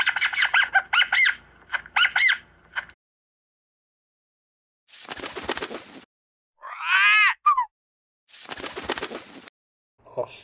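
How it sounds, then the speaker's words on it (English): Australian king parrots calling in a few bursts of harsh, raspy squawks and one clear rising-and-falling whistled call, separated by silent gaps. "Australian King Parrots."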